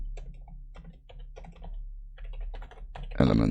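Fingers type on a computer keyboard in quick, close clicky bursts of keystrokes with brief pauses, ending in a louder clatter.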